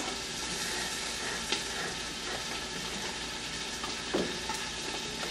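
Creamy Italian chicken sauce with cream cheese sizzles steadily in a pan on a low burner, a constant soft frying hiss broken by a few light scrapes and clinks from the stirring spoon.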